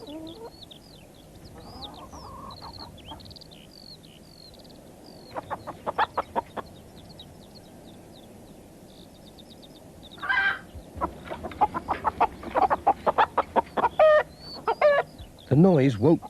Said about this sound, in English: But Mrs. Thompson's hens were wide awake